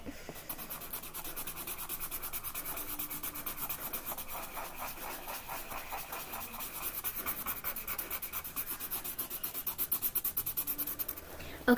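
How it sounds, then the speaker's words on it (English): Markers rubbing back and forth on paper while coloring in a Pokémon picture, a close, steady scratchy squeak of quick repeated strokes that speeds up toward the end, soft and continuous with no talking. "The nice sounds of coloring."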